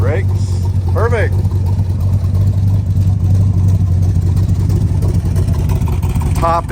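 A 1964 Chevrolet Corvette with a 327 V8 and four-speed idles steadily after a cold start, a loud, even low rumble throughout, with brief chirps or squeaks near the start and end.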